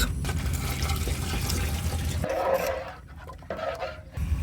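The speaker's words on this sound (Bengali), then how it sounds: "এখন দিয়ে দেবো মহিষের দুধ" Buffalo milk pours into a cooking pot of nearly cooked rice with spices for firni: a steady, close liquid gush that tapers off after a couple of seconds into quieter splashes.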